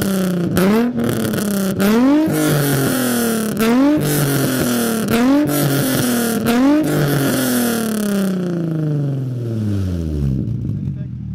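Nissan 350Z with test pipes exhaust is revved repeatedly, several loud rising-and-falling revs close by, finishing with a long descending drop back toward idle, with voices faintly under the engine.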